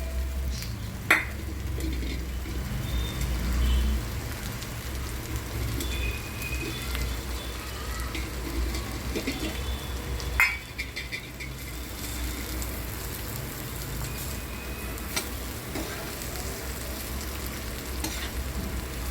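Cluster beans stir-frying on a hot griddle (tava), village-style, with peanuts, give a steady close sizzle and crackle throughout, with a couple of sharper scrape or clatter accents along the way.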